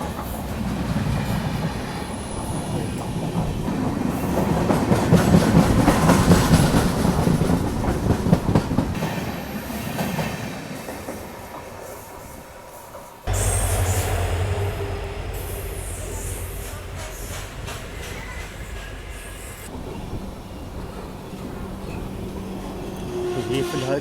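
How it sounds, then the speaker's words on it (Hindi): The Sikkim Mahananda Express rolls past close by with a heavy rumble and rhythmic clickety-clack of wheels over rail joints, swelling then dropping abruptly to a steadier roar, with voices talking over it at times. "कोई तो ट्रेन आ रही है। सिक्किम महानंदा एक्सप्रेस।"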